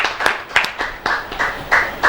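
Applause from an audience welcoming guests at a poetry gathering, heard as a few uneven bursts of clapping over a short stretch, fairly close and moderately loud.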